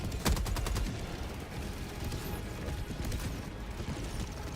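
In a video game, a rapid burst of gunfire rattles at the start, followed by mechanical clicks and clatter over a dense, busy background din.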